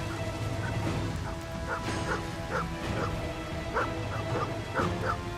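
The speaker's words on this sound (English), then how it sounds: "The dog!" A dog in the 19th-century turn-based RPG Shadows of the Road barks and yips in a string of short, evenly spaced outbursts over a steady game backdrop with low hum and ambience.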